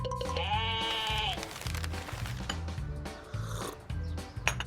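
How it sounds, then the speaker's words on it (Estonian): A sheep bleats a single wavering call over a bouncy children's cartoon music bed, followed by clattering and knocking effects. "Lambad on väga tähtsad taluloomad."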